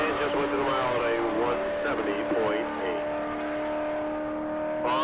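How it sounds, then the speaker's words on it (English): Chevrolet Corvette running a top-speed mile at a racing event, a distant rising engine drone of accelerating cars under continuous commentary from a voice over the track. "it looks like that Corvette did a 127 at the quarter and a 147 even at the half"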